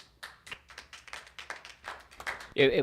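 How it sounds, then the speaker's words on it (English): Scattered applause at a township committee meeting: a dozen or so soft, uneven claps spread over a few seconds, fairly faint, ending in a louder burst of noise. "Appreciate definitely the applause there."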